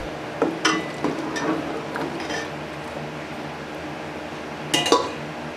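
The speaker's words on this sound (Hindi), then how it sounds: "इलायचियाँ डालेंगे। मिक्स करेंगे।" Cardamom being added and stirred into a pot while cooking sweet pheni seviyan with milk, giving a few scattered metallic clinks and scrapes of a spoon against the pot over a low background, with no talking.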